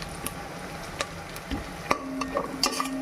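Curry leaves hitting oil that is not yet fully hot, giving a soft, steady sizzle with scattered light crackles and pops, faint and close in a pan.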